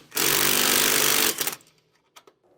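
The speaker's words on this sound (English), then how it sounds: "Put the wrench on the nut back here to prevent it from spinning while we tighten these down." A 9/16 socket drives nuts tight while a 9/16 wrench holds them during a SumoSprings Maxim helper spring install: one loud, close, rattling power-tool burst lasting about a second, followed by a few faint metallic clinks.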